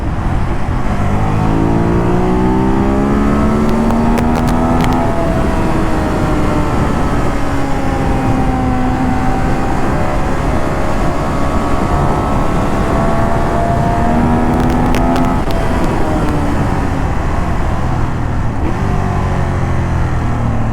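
A Ducati Monster 821 motorcycle engine revs hard and downshifts while riding, the pitch climbing and dropping repeatedly over a steady roar of wind and road noise, loud and close.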